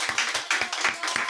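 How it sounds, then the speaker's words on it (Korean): A church congregation claps together in welcome during a Sunday worship service, a close, steady run of rhythmic handclaps with no talking over it. "우리 큰 박수로 환영하고 축복하겠습니다"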